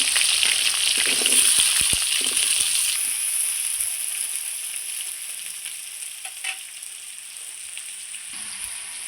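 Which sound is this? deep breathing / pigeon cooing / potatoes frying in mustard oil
potatoes frying in mustard oil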